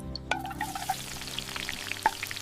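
Onion fries in a pan with a soft continuous sizzle, punctuated by a few sharp clinks and taps of a utensil against the pan.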